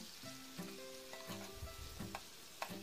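Chopped onions fry in half a cup of oil in a kadai, giving a quiet, continuous sizzle with intermittent stirring scrapes and faint tonal background hum.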